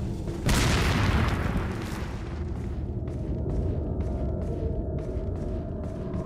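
A grenade goes off in Resident Evil 4, a loud, close boom that rolls into a rumbling decay with scattered debris and rattling noises behind it.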